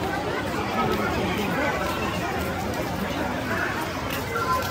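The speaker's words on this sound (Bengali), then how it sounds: "প্রচুর লোক একটা ট্রেনে এতগুলো লোক।" A large crowd of people chatters on a train, a dense, steady hubbub of overlapping voices with no single speaker standing out.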